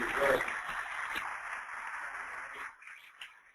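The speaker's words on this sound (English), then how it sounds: "We really appreciate another round of applause for Wendy" Faint applause from an audience at a 40th birthday party, a soft, steady patter of clapping that thins out and fades after a few seconds.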